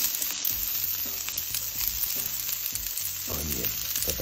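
Garlic sizzles in hot oil for paella, a loud, busy crackle with bursts of stirring scrapes throughout.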